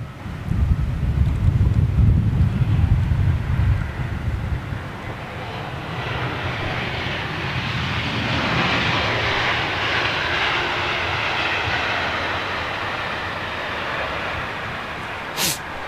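Airliner G-BNLY in Landor livery taxiing at London, a steady loud jet engine roar mixed with wind buffeting on the microphone, swelling at the start and then holding a broad continuous hiss.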